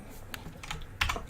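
Computer keyboard and mouse clicks during Photoshop work, a few quick close taps scattered over a second with faint background noise.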